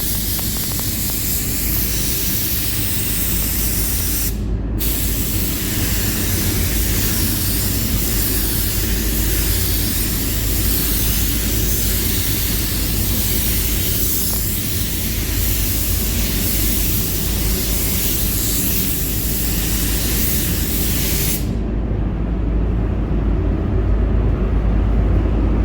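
A spray gun hisses steadily as a skateboard is painted inside a warm paint booth, a loud, continuous rush of air that briefly cuts out twice, with no speech over it.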